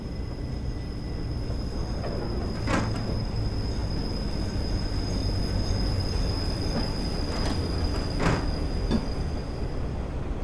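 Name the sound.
London Underground 1938 stock train arriving, Train Simulator Classic video game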